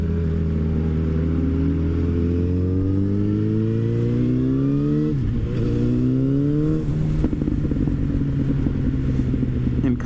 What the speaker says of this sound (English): I'm riding a fucking sports bike.